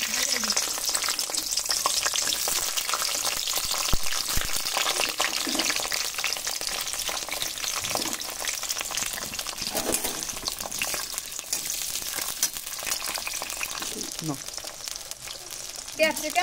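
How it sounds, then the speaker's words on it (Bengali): Capsicum and onion frying in oil left over from frying chicken balls, a dense continuous sizzle with occasional stirring scrapes and spattering, while a voice talks quietly at times. "চিকেন বল ভাজার তেলে আমি ক্যাপসিকাম পেঁয়াজ ভেজে নেব"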